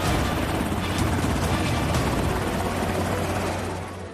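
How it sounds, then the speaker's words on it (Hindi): An MH-60R Seahawk "Romeo" naval helicopter roars nearby with a loud, steady rotor thrum and broadband turbine wash, holding level before easing off slightly at the end. "ये हेलीकॉप्टर बेमिसाल है।"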